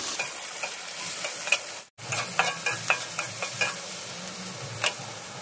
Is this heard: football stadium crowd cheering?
no